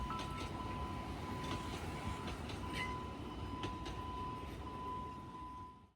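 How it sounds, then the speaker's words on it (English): A red train rumbles past steadily at moderate distance in Chiayi, Taiwan, with a constant low roar, a faint sustained tone, and occasional wheel clicks before fading out. "We catch a glimpse of the red train passing by."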